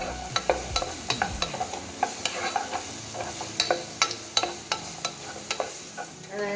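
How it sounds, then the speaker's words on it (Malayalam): Onions and vegetables sauté in a pan for fusilli pasta, with a steady low sizzle broken by repeated sharp scrapes and clicks as a spoon stirs them, close and fairly loud with no talking. "എല്ലാം ഒന്ന് വഴന്നെടുക്കാം."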